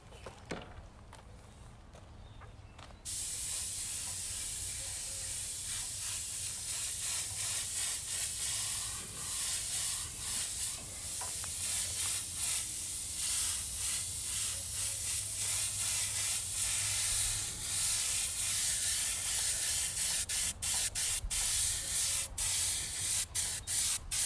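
An airbrush sprays paint onto a tiki head outdoors in a yard, a loud continuous hiss that starts abruptly and runs steadily for over twenty seconds, with brief interruptions near the end.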